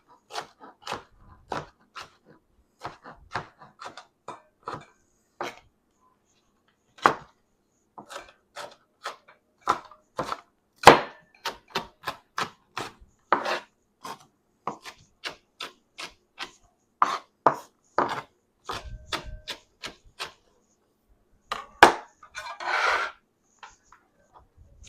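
A knife chops garden vegetables into small bite-sized chunks on a board, producing many crisp, close, irregularly spaced chops and crunches, alone without speech.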